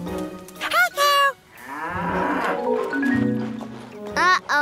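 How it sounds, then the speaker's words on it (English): A cartoon cow moos in long, loud, drawn-out calls, with a child-like character's voice and playful sounds between them. "Let's try to milk a cow as well"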